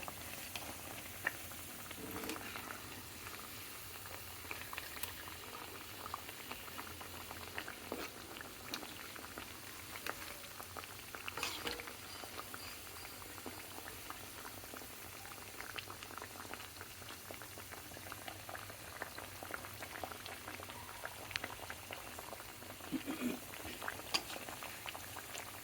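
Khajoor sweets frying slowly in oil over a low to medium flame, giving a steady soft bubbling and sizzle that runs continuously with faint clinks of stirring.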